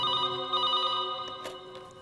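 A telephone rings with a steady electronic tone at moderate loudness, repeating through the moment, with a few faint clicks and no talking.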